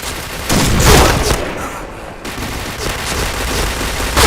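Dense gunfire from a video game crackles loudly and continuously, with heavy bursts and a brief lull midway before the shooting resumes.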